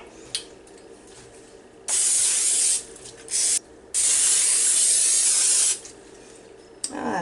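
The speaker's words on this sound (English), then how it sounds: "Spray it with Pam." Pam cooking spray hisses into a 9 by 13 Pyrex baking dish in two loud, close bursts, a shorter one and then a longer sustained one, with faint handling clicks around them.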